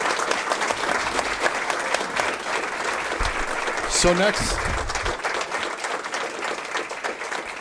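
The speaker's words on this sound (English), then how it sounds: "one more round of applause" Audience applause at a Rapid City City Council meeting, a sustained wash of many hands clapping, with a few voices talking over it and a brief clatter midway.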